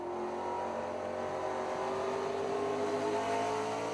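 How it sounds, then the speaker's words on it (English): A race car engine on track, its throttle modulated through the middle of a corner, heard as a steady whirring drone that slowly rises in pitch, faint and continuous with no voices. "Listen to him play with the throttle through the center of the corner."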